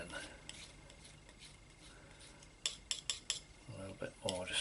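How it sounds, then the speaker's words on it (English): A palette knife working a thin layer of oil or acrylic paint on a palette, faint soft scrapes and taps, then a cluster of sharper clicks and smears near the end, with a voice briefly audible. "just a thin layer on the palette knife there."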